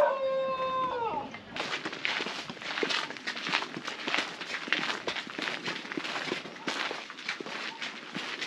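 Footsteps crunch steadily on rough ground along a riverbank near Hampi, India, close and regular, after a brief high-pitched bird call fades at the start; faint outdoor ambience behind.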